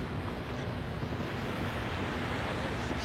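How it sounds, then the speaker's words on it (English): Boat wakes wash onto a small city beach along a bay, giving a steady, rushing surf with wind noise buffeting the microphone throughout. "Some waves on the bay from all those boats."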